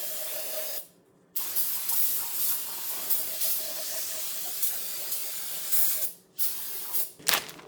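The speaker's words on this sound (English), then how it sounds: "So we're gonna go through, blow it all out, spray it all out, clean it all up, and then install it." Brake cleaner sprayed onto engine parts during a turbo mini Jeep rebuild, a loud close hiss in long bursts, cut off by a sudden short pause and ending with a few quick sharp spurts.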